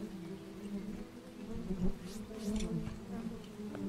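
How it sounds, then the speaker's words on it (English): Bees buzzing in the video game Starbound Frackin' Universe, a steady low droning hum close by that swells and fades slightly, with no talk over it. "One of the bees have started to get testy."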